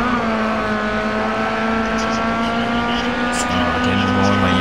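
Race car engines drone steadily with layered harmonic whine as cars slide past each other in the British DLC cup of the racing game GRID Autosport, loud and continuous throughout.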